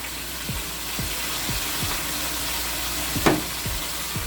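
A spoon stirs sofrito with carrot and olives in a pan, scraping in regular strokes about every half second over a steady frying sizzle, with one louder clink near the end and no talking.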